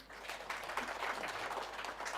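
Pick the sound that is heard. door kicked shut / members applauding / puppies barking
members applauding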